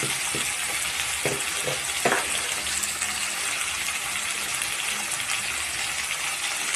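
Chicken pieces hiss and sizzle steadily in hot oil in a pan, a dense close frying noise with a few light clinks and knocks near the start.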